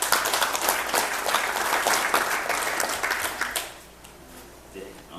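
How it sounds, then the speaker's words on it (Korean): A crowd at the 8th Korea-US Business Friendship Forum applauds steadily with dense clapping, then the applause thins and fades out near the end. "여러분 큰 박수로 환영해 주십시오"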